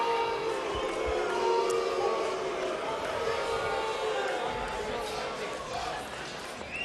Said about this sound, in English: What a crowd on hand tonight.